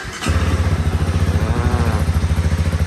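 A 2019 Honda CB300R motorcycle engine fires up after a brief crank and settles into a loud, close, steady pulsing run with a deep rhythmic throb.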